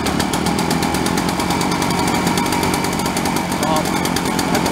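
A small two-stroke engine, one that bogs and won't rev to high speed, is started on choke and then runs with a loud, steady, buzzing drone that fills the whole stretch with a rapid, even firing rhythm.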